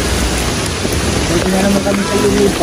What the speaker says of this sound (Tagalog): Babagyo-bagyo na.